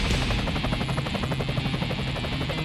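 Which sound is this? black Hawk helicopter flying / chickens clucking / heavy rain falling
black Hawk helicopter flying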